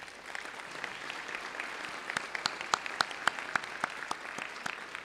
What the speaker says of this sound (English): Please, colleagues, let's give them a big round of applause.